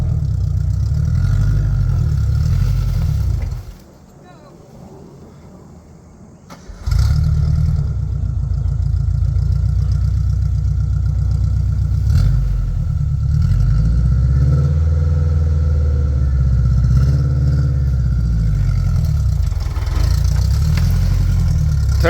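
A Suzuki Samurai engine idles and revs at a loud, steady level as the vehicle reverses in a creek. It dips briefly to near quiet early on, then resumes its rough, continuous drone.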